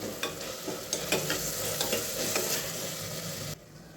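Red chili powder and coriander-cumin powder are stirred into vegetable noodle rice in a pan, with close scraping strokes over a light sizzle that cut off abruptly just before the end.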